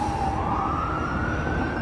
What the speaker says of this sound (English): Please excuse the siren behind me if you can't hear me.